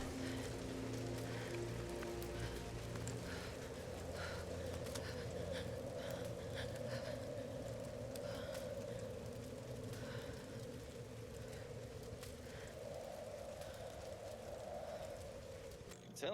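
Steady rain falling in the video game Tomb Raider (2012), a faint continuous patter over a low rumble with a soft breathy sound on top, lasting throughout.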